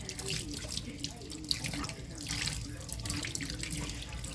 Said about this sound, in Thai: ต้องล้างกุ้งให้สะอาดด้วย น้ำจืดก่อนนะครับ